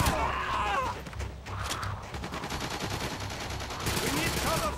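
Rapid bursts of automatic gunfire crackle through a GoldenEye 007 Wii firefight on the Outpost level, dense and repetitive across the whole clip, with game voice chatter mixed in.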